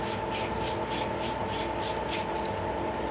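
Sandpaper is held against a hollowed wooden Christmas ornament spinning on a lathe, giving a steady close rubbing hiss that swells and fades in a regular rhythm about four times a second, with no talk.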